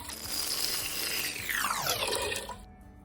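Warm water pours into a bowl of vegan funfetti cake batter, a continuous splashing stream with a rising pitch as the bowl fills, close and moderately loud, stopping abruptly near the end.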